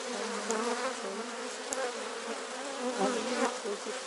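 Honey bees buzzing steadily around an apiary hive during a colony inspection, a close, continuous droning hum with a few sharper passes of individual bees near the microphone, no talking.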